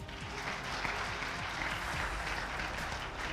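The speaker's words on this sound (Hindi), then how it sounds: "ताली बजा लीजिएगा" Audience clapping at a business presentation, steady sustained applause from a crowd throughout, fairly loud and even with no break.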